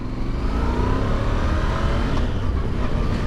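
Voge DS625X motorcycle engine growling steadily at mid-range revs while riding, a dense continuous drone with wind rush, close and loud from start to finish.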